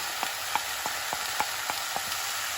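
Kashmiri red chili powder and pav bhaji masala frying in hot oil, a steady close sizzle with a regular series of light taps from stirring, about seven evenly spaced knocks.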